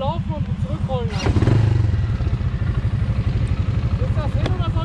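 A Kymco ATV engine runs steadily on a steep hill, giving a continuous low throbbing idle throughout, with people talking over it.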